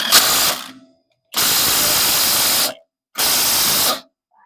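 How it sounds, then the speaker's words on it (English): An impact wrench drives a differential mount bolt on a BMW Z3 in three loud, close bursts, each a second or so long, separated by short silences. "Let me grab my impact, because this needs to go to 74 pound-feet"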